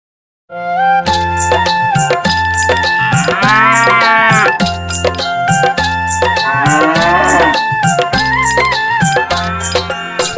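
Loud cow moos ring out over a steady, thumping musical beat in a Hindi children's nursery rhyme, with a couple of long rising, wavering lows standing out.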